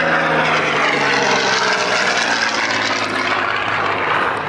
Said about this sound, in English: that Messerschmitt 109 was a German World War II fighter